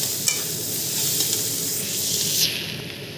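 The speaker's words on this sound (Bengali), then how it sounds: "দেখো বিনস আর গাজরটা কিন্তু ভাজা ভাজা হয়ে গেছে" Beans and carrots frying in a pan, a close, steady loud sizzle with stirring scrapes, briefly swelling then easing off, with no voices.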